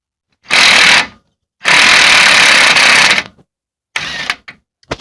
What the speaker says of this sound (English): Trusty impact does the job.